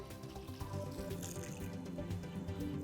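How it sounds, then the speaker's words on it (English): Water gushes steadily out of a whole-house water filter system during its backwash, a continuous splashing flow like an open tap running into a drain, close and even throughout. "now that the water is coming out clear, we can move to the next stage of the backwash"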